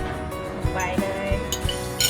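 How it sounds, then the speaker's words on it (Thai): A spoon stirring lime soda in a glass, giving a series of light, close clinks and taps against the glass at an irregular pace over a low background hum. "คนให้เข้ากันง่ายๆ"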